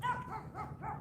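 A dog barks four times in a steady rhythm on a morning walk in the southern Nevada desert, the barks close and fairly loud with no talk over them.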